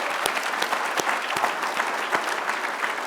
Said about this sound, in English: Would you please give us another round of applause for Miss Asia Cotton from